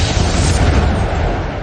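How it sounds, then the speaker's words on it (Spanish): A huge explosion tears through an oil platform in the North Sea, a loud sustained roar of rumbling, crackling noise with no pause. "Creo que un segundo después hubo una enorme explosión."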